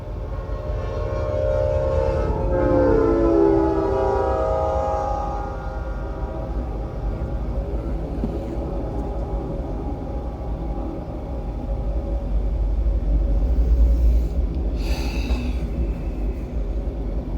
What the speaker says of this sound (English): the train will be coming at this exact moment